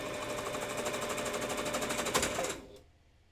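A sewing machine stitches a fursuit tail in a steady rapid run at close range, then abruptly stops and falls quiet.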